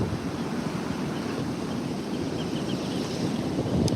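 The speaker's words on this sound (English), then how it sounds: "The waves are rolling in" Waves roll onto a Texas beach with a rip current, heard as a continuous broad surf roar mixed with wind buffeting the microphone, steady and fairly loud, with no talking.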